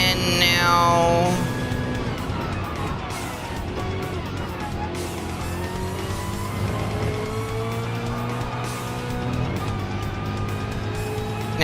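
Race car engine in Gran Turismo during an endurance race, loud and continuous, with rising and falling revs as the car pulls out of a slipstream and accelerates.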